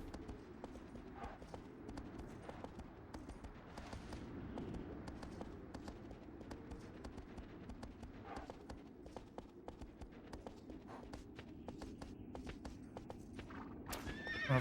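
A horse in the game Shadow of the Colossus gallops with fast, continuous hoofbeats clattering over the ground and gives a neigh, all fairly quiet and steady throughout.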